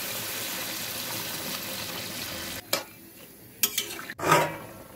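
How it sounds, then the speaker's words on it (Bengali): Meat cooking in a pan, a steady sizzle that cuts off sharply as water goes in, followed by a few splashing, stirring knocks against the pan, close by with no talk. "এবার জল দিয়ে দেবো।"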